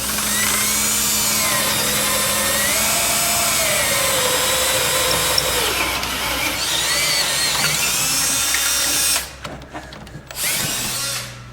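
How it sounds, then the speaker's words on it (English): A power drill drilling holes overhead whines continuously at high speed, pitch wavering under load, then cuts out briefly before spinning up again near the end. "if you have a lot of holes to drill upside down"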